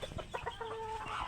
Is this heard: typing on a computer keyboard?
no